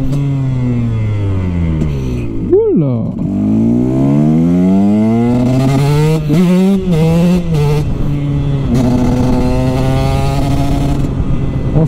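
A Husqvarna 125 TX dirt bike's two-stroke engine, fitted with Akrapovic and FMF exhausts, revs up and down loudly and close, pitch rising and falling repeatedly, with a brief exclamation from a rider.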